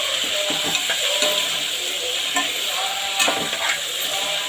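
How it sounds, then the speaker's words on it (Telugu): Tomato and coarse salt being stirred into a simmering curry, a continuous sizzle broken by soft scraping stirs and a few sharp clinks of the spoon against the pan. "టమాటో, 1 స్పూన్ గళ్ళుప్పు వేసి మిక్స్ చేసేయడమే."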